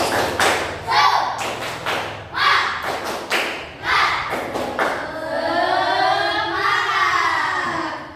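A group of schoolchildren in a class performs a rhythmic spirit clap, several loud, evenly spaced thumping claps and chants in a patterned beat, followed by a sustained chanted call from the group.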